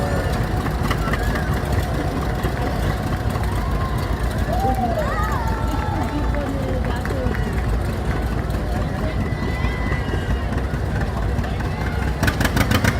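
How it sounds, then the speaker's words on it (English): A Ford 9N or 8N tractor runs steadily in a small-town homecoming parade, its low engine rumble continuous and fairly close beneath crowd chatter and people talking. "Anthony, who's on the tractor with you?"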